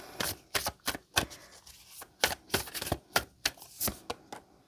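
Starseed oracle cards are shuffled close by in a series of sharp, snappy card slaps about every half second, crisp and dry with nothing else heard.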